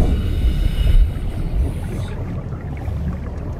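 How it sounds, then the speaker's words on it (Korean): A submarine's engine idles in the underwater survival game Subnautica, a steady low rumble and wash of water that runs throughout, slightly louder in the first second before settling. "아, 엔진 안 껐군."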